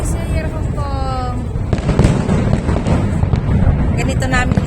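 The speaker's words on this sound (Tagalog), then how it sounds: "Ito na yung fireworks." Chinese New Year fireworks over Hong Kong crackle and boom at a distance, a dense continuous rumble of bursts with whistling rockets rising, under wind buffeting the microphone and people talking nearby.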